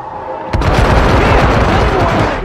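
Gunfire erupts in Hitman Absolution, a sudden loud burst followed by a sustained, dense barrage of booming shots and rumble, with shouting voices mixed in.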